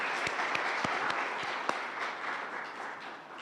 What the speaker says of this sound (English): A better round of applause for Lauren